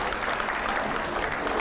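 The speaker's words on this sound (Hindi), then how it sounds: "ऑडियंस अपनी तालियों से क्या कह रही है" Steady applause from a studio audience during a political TV interview, dense and continuous clapping filling the whole moment with no pauses.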